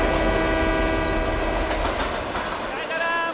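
A train rumbles steadily through Valsad railway station, a loud continuous roar with rattling wheels and a faint horn-like tone near the end.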